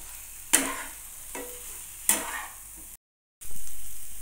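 Pointed gourd being stir-fried with spices in oil in a pan: a soft sizzle with a few sharp scrapes of a spatula, a brief dropout of silence, then the sizzle swelling back, fairly quiet and close.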